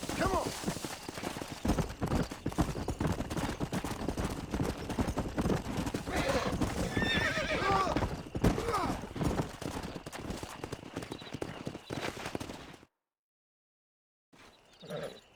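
Horses gallop and neigh in the video game Red Dead Redemption: rapid hoofbeats drum steadily for about thirteen seconds with neighs and whinnies rising over them, while someone talks, then a brief silence and a short faint tail.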